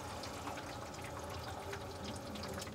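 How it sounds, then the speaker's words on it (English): Tap water from a plumbed-in coffee machine's supply line runs into a sink as a steady, moderate splashing and trickling stream, with no talk over it. "I've got water coming out into the sink."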